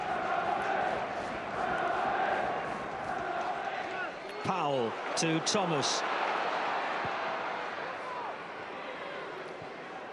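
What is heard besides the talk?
football crowd noise at Charlton Athletic match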